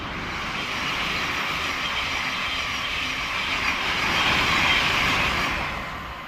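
A Class 700 electric train rolls through New Southgate station on the East Coast Main Line, a steady broadband rumble and rush that swells toward the end as it passes close by, with no voices.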